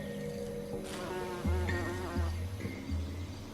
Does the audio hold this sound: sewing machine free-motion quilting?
no